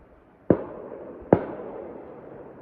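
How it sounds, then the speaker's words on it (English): A shotgun fires two booming shots close together, each sharp report trailing off in a long echoing rumble outdoors. "That's a shotgun."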